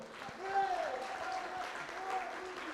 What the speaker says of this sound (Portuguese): Aplaudir ao Senhor.